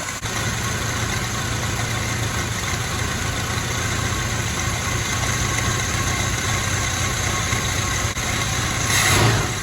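A car engine with a Weber carburetor idles high at about 1,500 RPM on the electric choke's second step, a loud, steady, close drone with no talk, briefly swelling near the end.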